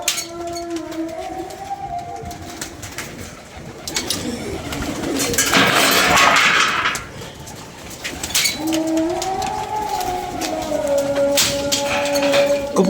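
Pigeons coo in a pigeon-keeping setting: low, warbling calls rise and fall in repeated phrases at the start and again toward the end, with a rougher rustling burst in between and steady background noise.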